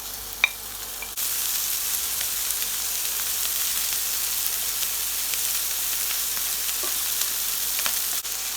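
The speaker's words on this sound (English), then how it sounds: "I'm going to include my spam and sausages because I like it to have a sear on the meats." Spam and sausages sear in a pan for Korean kimchi pie, a steady loud sizzle throughout with a few faint clicks, no voices.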